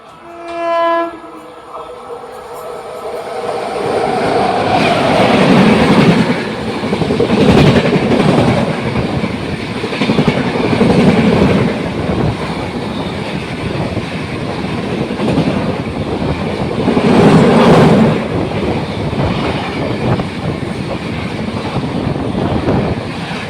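Coimbatore to Mumbai LTT express train passing a crossing beside a halted passenger train, a loud continuous rumble of wheels and carriages with a horn blast at the start, steady and close throughout.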